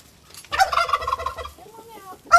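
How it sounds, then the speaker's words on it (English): A Royal Palm turkey gobbles in a backyard chicken yard, one loud rattling gobble close by followed by the start of another. "our rooster fights with the Royal Palm turkey named Kingsley"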